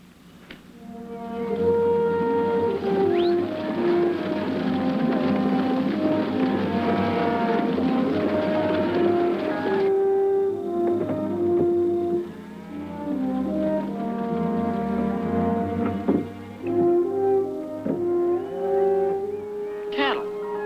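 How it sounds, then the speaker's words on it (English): A big herd of cattle moos repeatedly from somewhere beyond a hill, several long lowing calls overlapping beneath a steady, dense layer of music that runs throughout. "Cattle. Sounds like a big herd right over that hill."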